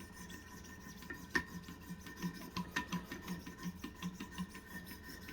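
A knife is sharpened on Wicked Edge Pro-Pack III stones with steady, rhythmic rasping strokes, about a dozen even passes, quiet and close against a faint background hum.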